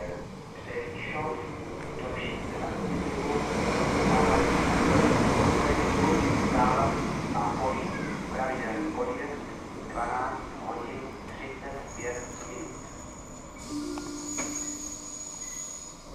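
A Czech Railways passenger train rolls into a station platform with rumbling wheels and rising, steady rail noise, while a station announcement plays over it and a bright squeal rings out near the end.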